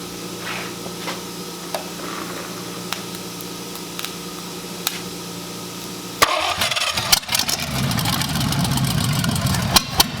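An abandoned Cadillac 331 V8 in a hot rod sits quiet through a few faint clicks, then cranks and catches about halfway through, settling into a loud, rough, rumbling run close by.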